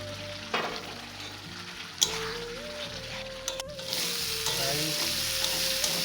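Tomato masala sizzling steadily in a pan at close range while a utensil stirs and scrapes it now and then, with a few light clinks against the metal.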